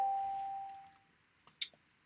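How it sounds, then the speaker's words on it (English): A doorbell chimes once in a home, a clear ringing tone that fades away over about a second, followed by faint small clicks and knocks, with no talk. "sorry, the doorbell just rang."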